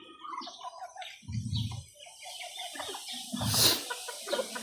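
Bantam chickens and a White Leghorn hen cluck near a nesting box, with low throaty clucks in a couple of bursts and thin chirps scattered between.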